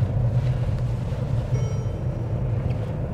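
Steady low rumble of engine and road noise inside a moving Mercedes bought for £500, smooth and even throughout with a faint high whine midway and no talking.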